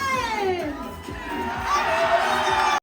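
A packed brewery crowd in Knoxville, East Tennessee, cheers and shouts together in a loud, sustained roar of mixed voices that swells toward the end and stops abruptly.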